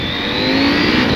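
A 2023 KTM 890 SMT motorcycle engine revs hard and climbs in pitch, a loud, close, steady roar with no voices.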